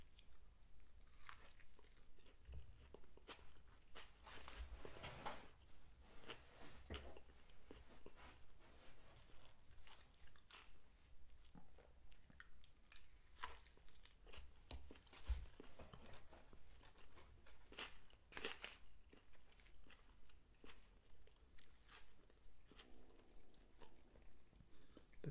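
Quiet, close crunching bites and chewing of a Burger King Impossible Whopper with fresh lettuce, tomato, onion and pickles, soft irregular mouth sounds and crisp crunches spread over about 25 seconds, with no talking.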